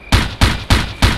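Four evenly spaced gunshots in the tactical shooter Ghost Recon (2001), loud and close, each a sharp crack with a short decaying tail, with no voices over them.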